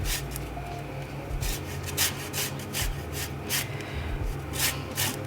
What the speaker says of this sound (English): then just grate over the zest